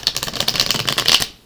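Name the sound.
shuffling tarot cards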